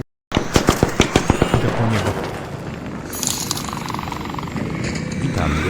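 In a video game, a rapid burst of gunfire cracks out at the start, then gives way to a dense, rumbling roar of bombing with scattered blasts and clinks, loud and close.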